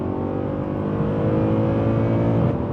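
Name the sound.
Mercedes C63 AMG 507 Coupe engine revving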